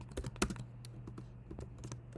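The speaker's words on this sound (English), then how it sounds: "Let me just type this thing out." Typing on a computer keyboard, a run of quick irregular key clicks, close and fairly quiet, with a steady low hum underneath.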